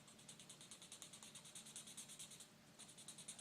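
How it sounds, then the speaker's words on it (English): An alcohol marker rubs and presses into paper during colouring, with quiet, rhythmic scratchy strokes repeating about five times a second, close to the microphone, then a short pause before the strokes resume. "I feel like I actually have to push the marker into the paper"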